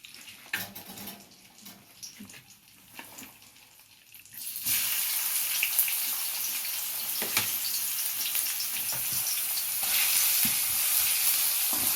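White oil in a kadai, heated for frying fish, starts as quiet clinks and scraping, then breaks into a loud, continuous sizzle partway through that holds steady and grows slightly stronger toward the end, with no talking.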